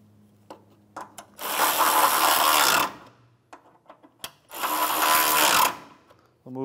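A power ratchet or impact tool runs twice in long buzzing bursts, tightening two 12 millimeter bolts on the radiator support of a 2011-2016 Hyundai Elantra, with small clicks and clanks of metal between the bursts.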